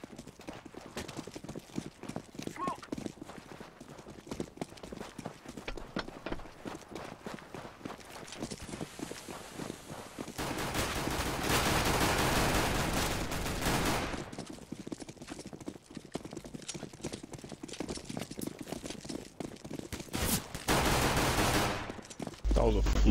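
Counter-Strike: Global Offensive gunfire on the Dust 2 map comes as scattered sharp shots and rapid bursts amid running footsteps, with sustained louder stretches of firing, mixed with game sounds.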